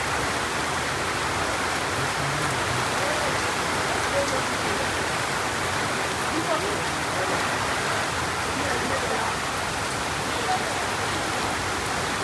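Heavy rain keeps falling over a rural village, a continuous close wash of drops on surfaces holding a level, unbroken roar throughout with no talking.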